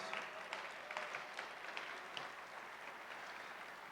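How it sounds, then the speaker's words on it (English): An audience at the ETHDenver closing ceremony gives a round of applause: dense, sustained clapping with a few sharper individual claps standing out early on, gradually thinning and softening toward the end, moderately quiet. "Please give him a round of applause"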